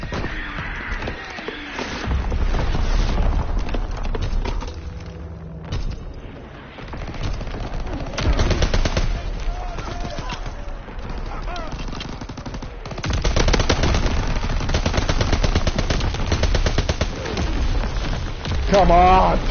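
Rapid machine-gun bursts and single gunshots in the World War II shooter Call of Duty WW2, firing in repeated volleys with occasional booms, while someone talks over the game action.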